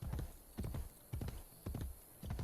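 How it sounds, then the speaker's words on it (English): Horse hooves clip-clop in the Assassin's Creed Brotherhood video game, a steady rhythm of paired hoof strikes repeating about every half second, moderately loud and heard alone. "You can go almost anywhere in the city on a horse."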